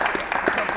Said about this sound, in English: Give Sue a round of applause